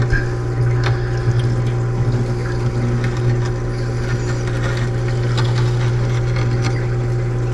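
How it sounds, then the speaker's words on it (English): A Sunbelt intelligent water changer's powerful pump sucks up water and debris in a steady, loud, continuous hum with a low droning tone and wet gurgling, running alone without talk. "You can see it's got a nice powerful pump. It's sucking this stuff right up."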